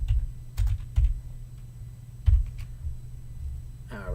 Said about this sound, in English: So I'm going to type in normalize.